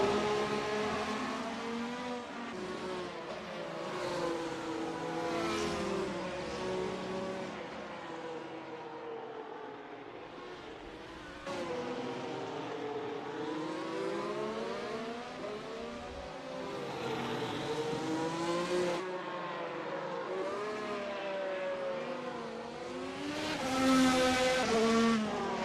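Race cars from a racing video game on the Indianapolis GP road course roar continuously through the whole stretch, engines rising and falling in pitch as they shift and pass, loud and close with no voices.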